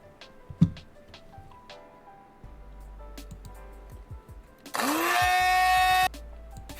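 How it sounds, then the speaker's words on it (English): A blender sound effect grinding loudly for about a second and a half, a harsh whirring burst rising out of scattered faint clicks and a low hum. "Blender noise."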